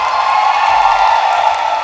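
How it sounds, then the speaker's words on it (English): A graduation crowd of engineering and information technology students and guests applauds and cheers at a convocation ceremony, a steady loud wash of clapping and voices with no pauses. "So can we hear a huge round of applause"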